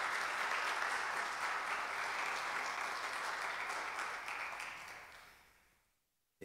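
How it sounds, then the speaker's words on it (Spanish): An audience at a Spanish-language church service applauds warmly to welcome a bishop. The applause holds steady, then fades out to near silence after about five seconds. "Recibámoslo con un fuerte aplauso."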